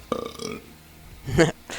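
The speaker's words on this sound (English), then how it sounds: "you laughing at that burp every time" A loud burp erupts near the end, preceded by a brief burst of speech-like sound and laughter-like voicing at the start, all close and clear.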